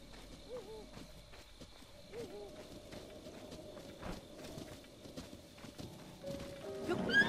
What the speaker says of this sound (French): Ah, les chevaux commencent à s'agiter.